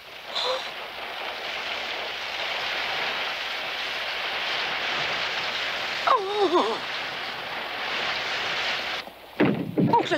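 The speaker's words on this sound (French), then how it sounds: "Oncle de l'Alpe, il s'est mis à pleuvoir" Rain begins falling in the Alps as a steady, dense hiss lasting several seconds, with a brief exclaimed voice at the start and another short vocal sound near the end.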